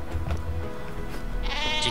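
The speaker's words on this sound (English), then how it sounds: "Do not throw the sheep." Sheep bleats in the video game Worms Reloaded, loud and close, a wavering cartoonish bleat rising near the end over a steady game background, with no talk over it.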